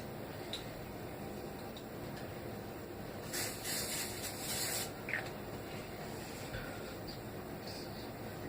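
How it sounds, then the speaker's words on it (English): A short burst of WD-40 aerosol spray onto a rag hisses for about a second and a half, close by, over a quiet background with faint clicks. "now I'm going to spray some more WD-40 on the rag and clean off"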